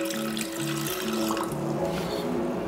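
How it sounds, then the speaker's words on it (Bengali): Water runs and trickles steadily into a pressure cooker for mutton curry, a continuous close liquid pour heard over a faint tonal background. "কুকারের মধ্যে আমি একটু সামান্য পরিমাণে জল দিয়ে দিলাম।"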